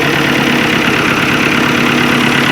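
A 1978 Italian-made Fiat 640 sits idling, its engine giving a loud, steady, even drone with a constant low hum and no break, close up and alone.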